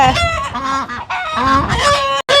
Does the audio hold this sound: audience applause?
no